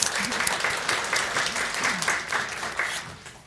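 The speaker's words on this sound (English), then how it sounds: "give them a round of applause" An audience at a faculty kickoff event claps for two staff members, a dense, continuous round of applause with a faint voice underneath, tapering slightly toward the end.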